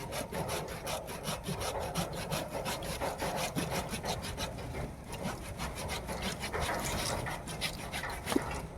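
A hand saw rasps steadily back and forth through a woody bougainvillea branch, rhythmic strokes close by with no talking.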